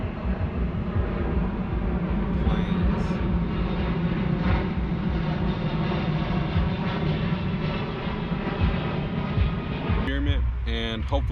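An airplane drones steadily overhead in a continuous, loud engine roar lasting the whole stretch, with a voice speaking briefly near the end.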